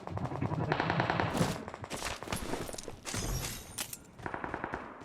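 Automatic AK rifle fire in a video game, dense rattling bursts up close with a few gaps, mixed with game effects and a faint voice underneath.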